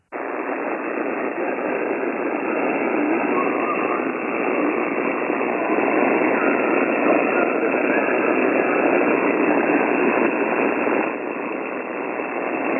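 Steady, unbroken hiss of HF radio static on the 80-meter band from an Icom IC-7610 receiver, a dense noise floor with no voices breaking through.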